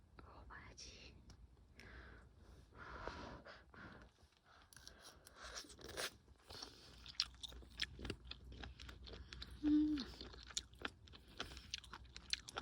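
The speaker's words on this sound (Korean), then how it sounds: "먹어봐야지." Crunchy food chewed close up at a rainy campsite on Jeju, with soft crunching and mouth sounds over steady rain patter and occasional clicks, quiet overall.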